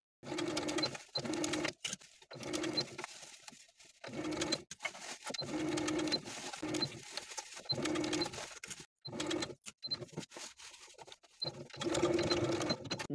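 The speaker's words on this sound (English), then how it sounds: "I'm going to edge stitch close to that inner fold of the bias tape" A sewing machine edge stitching bias tape on a top runs in many bursts of steady humming, starting and stopping repeatedly with brief silences between runs, close and clear with no talking.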